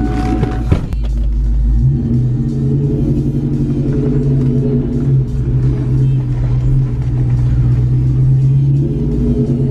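A Ford Mustang on the move makes a loud, steady low engine rumble with a deep drone that holds throughout, heard from inside the car after a brief clunk at the start.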